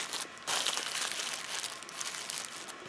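A plastic bag holding a spare bike inner tube being folded over, giving a close, steady crinkling rustle that swells after a brief pause and continues throughout.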